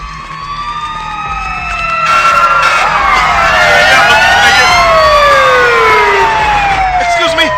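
Loud, wailing fire engine sirens ring out at a burning building in a movie scene, several overlapping tones sweeping up and down and swelling in volume after the first couple of seconds, over a steady rumble of traffic.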